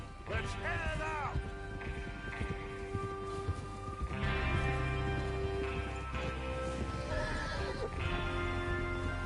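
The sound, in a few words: horses neighing and trotting in Red Dead Redemption 2 video game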